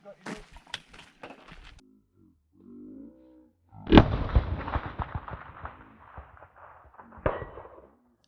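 Rifles fire at long-range targets on an outdoor range, with several sharp, loud reports cracking out, including a big close shot midway, and a shooter briefly speaks between them.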